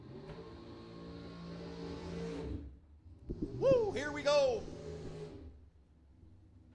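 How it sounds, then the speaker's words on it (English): Engine roar from dragsters doing burnouts at a bracket drag race, a sustained revving drone that cuts out, then sharp rising revs, under excited talk. "fast dragsters means big burnouts, and there you go, a couple of them right there."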